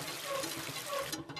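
Water is pumped and splashes steadily in the VR survival game Ocean Craft, a continuous close wash of liquid that cuts off near the end.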